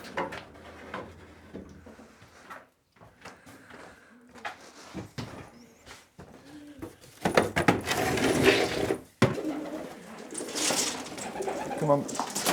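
Racing pigeons coo softly in a loft, mixed with wooden clatter, rustling and handling noises that swell into louder bursts partway through.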